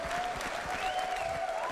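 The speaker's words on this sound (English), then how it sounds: "I'd like a round of applause for that as well" A crowd at an MMA event applauds a U.S. veteran, clapping and cheering loudly and steadily throughout a short burst with a faint whistle on top.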